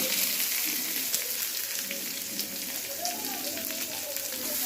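Green chillies and onions frying in a pan with curry leaves, a steady dense hiss of sizzling oil, close and continuous, with faint background sounds.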